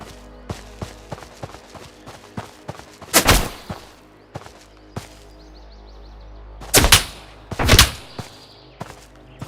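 Enemy gunfire in a video game: a string of sharp, scattered shots across the clip, with three louder, heavier bursts standing out, near and distinct, with no talking.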